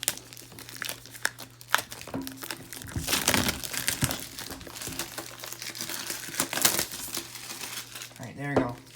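Plastic wrap crinkles and tears as it is picked off a Stadia Premiere Edition box, with busy crackling bursts close by and a person's voice speaking briefly over them.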